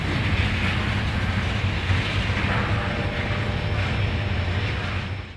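A freight train rumbles past at Altoona, Pennsylvania as a broad, steady roar of wheels and cars that holds loud and close before easing slightly at the end.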